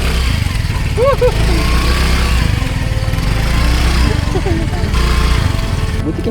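A motorcycle engine runs steadily at close range on a muddy, slippery track, a continuous low drone with slight revving, while voices talk over it throughout.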